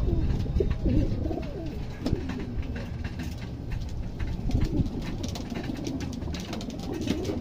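Pigeons, a mix of breeders and flyers, cooing at evening feeding time, with layered throaty coos and soft wing and pecking noises forming a busy, close, continuous chorus.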